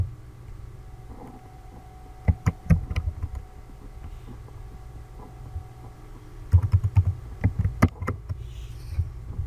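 Keystrokes on a computer keyboard while a password is entered, two short bursts of quick clicks separated by a pause, fairly close and alone over a low background hum.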